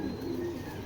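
One short, low coo comes from a nearby silver-eyed foreign male racing pigeon of red checker stock.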